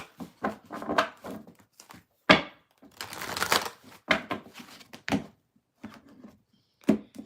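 Tarot cards are shuffled close up in a series of soft, irregular riffling bursts and papery flutters with brief pauses between them.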